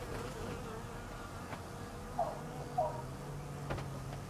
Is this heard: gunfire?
no